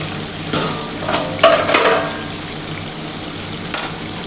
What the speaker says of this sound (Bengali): একটু ঢাকা দিয়েই ভাজছি বন্ধুরা